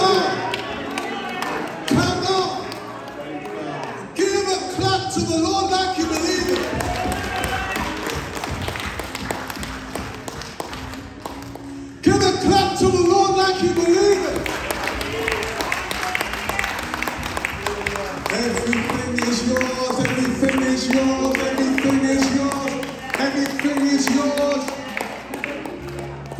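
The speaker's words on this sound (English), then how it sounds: "Give a clap to the Lord." A church congregation claps and cheers in rhythmic bursts during a lively sermon, dense and reverberant, with a preacher's voice talking over the clapping throughout.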